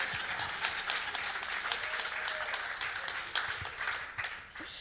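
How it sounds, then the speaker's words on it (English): Audience clapping at an art exhibition talk, a steady wash of many hands applauding together, fairly close and sustained for several seconds before tapering slightly at the end. "you can clap, it's worth a clap"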